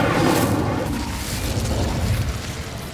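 A fiery Incendio spell blast in the Hogwarts Legacy video game on PS5, a loud rumbling boom that swells at once and then roars on steadily for a few seconds.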